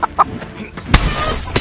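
A chicken in a modded video game gives a couple of short clucks, followed by a sudden loud burst and a lingering noisy sound effect.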